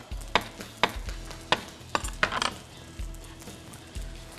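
Sharp scraping and clattering of a utensil against a wok while stir-frying fried rice with mackerel and salted egg, several distinct strokes, with a faint sizzle underneath; no voices.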